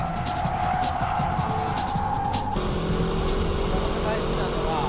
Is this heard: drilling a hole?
no